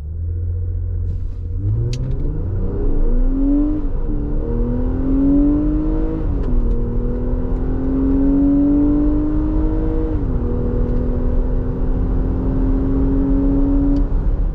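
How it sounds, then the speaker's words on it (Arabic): A 2024 Infiniti QX60 in sport mode accelerates hard from idle, its engine note climbing steadily through gear shifts as a loud, close, continuous interior rumble with no talk. "تعالوا نشوف الآن تسارع الانفينيتي كيو اكس 60 وبحط وضعية السبورت"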